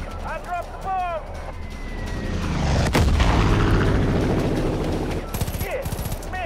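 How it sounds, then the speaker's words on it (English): A bomb dropped from the air in Far Cry 5 bursts with a heavy boom midway, a loud broadband blast rolling into rumble, with a short rattle of shots afterward and a voice talking early on. "I dropped the bomb."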